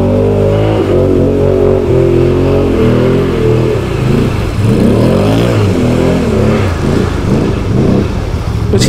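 A Can-Am Outlander XMR ATV engine revs hard and close on a muddy off-road trail, a loud continuous roar with pitch climbing and dipping as the throttle is worked.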